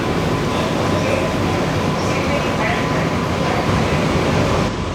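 Chennai's new air-conditioned EMU local train pulls away from Chetpet station, a steady loud rumble of wheels and motors filling the carriage interior throughout.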